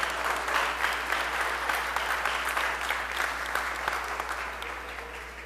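Steady round of applause fills the Mississippi House chamber, dense clapping from many hands held at an even level for several seconds before easing slightly toward the end.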